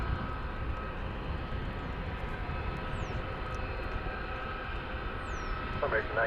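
A Frontier Airlines airliner arrives at DFW Airport, a steady broadband engine roar holding at an even level throughout, with faint distant chirps above it.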